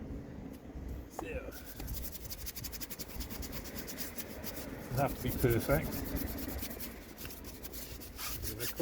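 Abrasive rubbing on a car wheel being scuffed and sanded by hand before painting, a soft continuous scraping texture under a man's speech.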